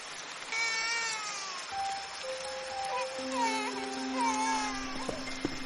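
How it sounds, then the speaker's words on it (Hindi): A high, wailing cry like a baby's rises and falls over a dark background in a horror tale, with long drawn-out tones and meow-like inflections, moderately loud and alone, ending in a couple of sharp taps. "अचानक उसे बच्चे के रोने की आवाज सुनाई दी।"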